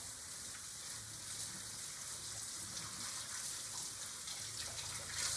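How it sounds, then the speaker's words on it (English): Hands being rinsed under a running kitchen tap to wash off soap, a steady gushing hiss of water with slight splashing, close and continuous, no talking. "stick them back under the water, wash all that soap off"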